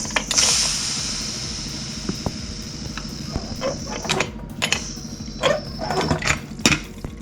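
A pressure cooker lid being worked open after steaming ghiraula (sponge gourd) curry with buff, giving a steady hiss followed by repeated metallic clicks and creaks up close.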